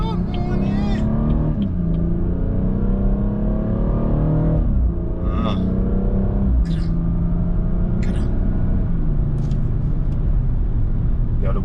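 A BMW 440i xDrive Gran Coupe's engine runs steadily from inside the car, rising and falling as it accelerates and shifts through gears, while someone talks over it.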